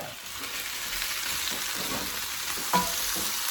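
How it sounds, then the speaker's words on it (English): Potatoes fry in a pan for a chicken and potatoes dish, a close, even sizzle that holds steady, with one brief clink of a utensil near the end. "So I am gonna pop the potatoes in. And I am gonna let these cook"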